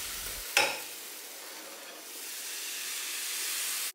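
Dosa batter hits a hot, lightly oiled tawa with a sharp sizzle that settles into a steady, close hissing fry running on without talk.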